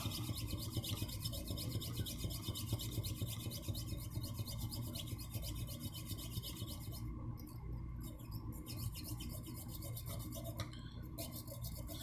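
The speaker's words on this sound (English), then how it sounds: "I've laced my jeweler's saw through the back window. And we just started cutting" Jeweler's saw cutting through a model car casting, a faint rapid rasping of fine back-and-forth strokes continuing steadily with no talk.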